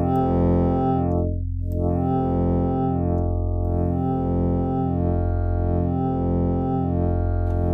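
A sustained synth pad from the NI Massive software synthesizer, set up as a tempo-synced patch, holds steady and loud with a rich harmonic spectrum that sweeps and pulses rhythmically throughout.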